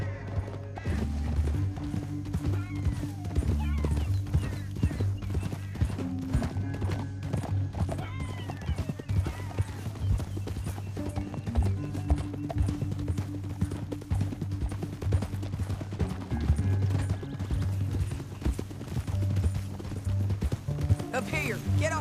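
Horse hooves clip-clop in a steady, rapid rhythm throughout in the video game Red Dead Redemption 2, with music and voices talking over the clatter.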